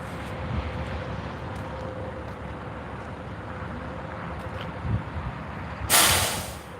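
A big truck at a fatal motorcycle crash scene on I-70 east of Aurora sits under steady wind and road rumble, then lets out one sharp, loud air-brake hiss near the end.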